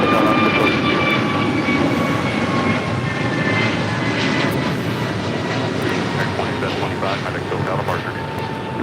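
A Boeing 737-900ER airliner takes off from runway 25 right at LAX, its engines roaring loud and steady throughout with a broad, continuous rumble and a high whine, heard from inside the aircraft.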